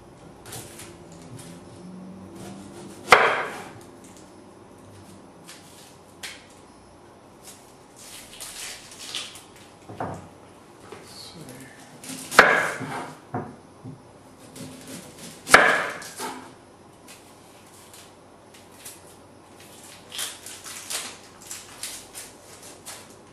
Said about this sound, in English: now I have this big onion